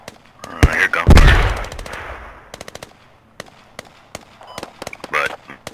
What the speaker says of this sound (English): Here gunfire.